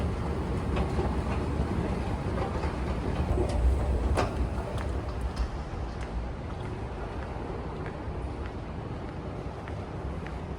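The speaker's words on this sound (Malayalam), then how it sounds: "ഇത് അൽവക്ര മെട്രോ സ്റ്റേഷൻ." At the Al Wakra metro station in Qatar, a steady low rumble of a train fills the space, constant and moderately loud, with no voices.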